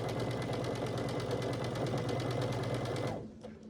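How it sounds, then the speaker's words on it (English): A sewing machine stitching a quarter-inch seam on a quilt block, running in a fast, even mechanical chatter close by before stopping abruptly near the end. "we're going to stitch right down here at a 1/4 inch seam allowance. So I'll stitch all the way down the side."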